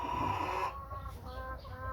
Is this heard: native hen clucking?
yes